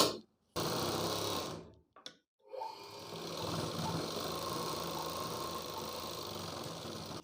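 A sewing machine runs a border seam along blouse fabric: a steady whirring run, a few abrupt stops and restarts, then a longer continuous stretch of close, even mechanical hum.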